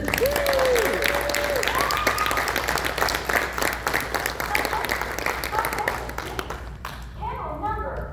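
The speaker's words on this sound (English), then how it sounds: "So y'all give them another round of applause." An audience at a Kingdom Hearts fan convention panel gives a loud round of applause with some cheering, which thins out near the end as a voice briefly speaks over it.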